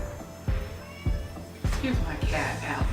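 A pet cat meows several times indoors, short nasal cries rising and falling in pitch, while someone talks over them.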